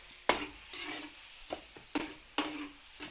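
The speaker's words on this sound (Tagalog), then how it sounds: "Gisa na po natin yung bawang." Garlic and onion sautéing in a pan for a Filipino dish, with a faint steady sizzle under several sharp, spaced clacks of a utensil stirring against the pan, nearby and moderately quiet.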